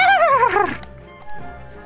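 A dog in the video game Kingdom Hearts 2 lets out a single loud, wavering yelp that lasts under a second, followed by quiet low background tones.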